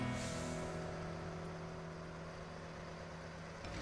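A truck engine idles steadily in the video game SnowRunner, a low, even drone with a faint hum that holds for several seconds and fades slightly, quiet and with no talk.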